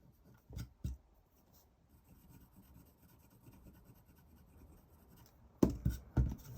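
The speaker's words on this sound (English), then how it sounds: "I'm just going to scrape some of that off" Scraping excess paint off a painted layered mandala, a faint, continuous rasping scratch with a few sharper taps and scrapes at the start and a louder cluster near the end.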